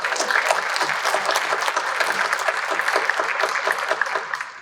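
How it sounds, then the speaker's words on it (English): Sustained round of applause from an audience at a school district board meeting honoring a volleyball player, dense steady clapping throughout, fairly loud and close, tapering slightly at the end. "So I'd like to give Gracie a big round of applause."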